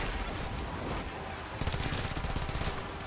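Furis Incarnon gun firing in Warframe during a Steel Path survival mission, a dense continuous rapid-fire stream that grows louder and more distinct halfway through, amid busy game noise.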